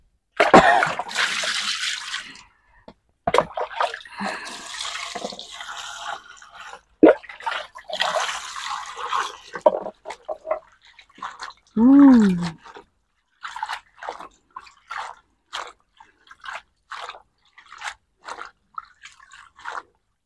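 Young spinach is washed by hand under water, with scattered splashes, drips and trickles that come in short, uneven bursts separated by pauses.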